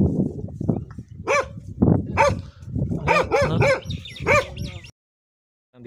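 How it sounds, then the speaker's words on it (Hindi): A dog barks repeatedly outdoors in a rural area during cold, wet weather, sharp close barks in quick bursts over several seconds, then falling silent. "इतना ये कुत्ता आया"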